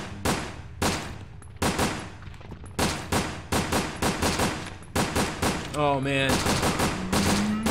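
Repeated bursts of gunfire in Resident Evil: Dead Aim, sharp loud shots in irregular volleys with short gaps, a mechanical whirring sound near the end and a player's brief muttered remark.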